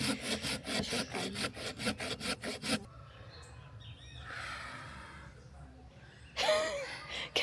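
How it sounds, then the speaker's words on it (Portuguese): A hand saw cuts through hard wood outdoors during a bushcraft campfire attempt, giving quick rhythmic rasping strokes for about three seconds. It then fades to quieter background with faint birdsong before a brief final rasping burst. "O bichinho já serrou. E essa madeira é dura, ela não é mole, não."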